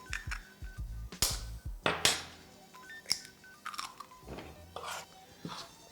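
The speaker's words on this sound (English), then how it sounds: "Cracking 2 eggs" Sharp cracks and taps of two eggs being broken over a mound of flour for handmade pasta, with clinks of shell and dishes and small wet crunches, close and intermittent.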